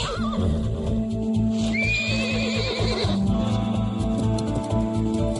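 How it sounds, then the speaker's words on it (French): A cartoon pony whinnies in a long, loud, wavering neigh, with hoof clip-clops and a busy animated soundtrack behind it. "C'est le poney."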